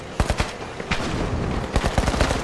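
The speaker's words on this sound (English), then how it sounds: "Someone's shooting at me." Bursts of rapid gunfire in the video game The Finals, several volleys of close shots crackling in quick succession with a steady game din between them.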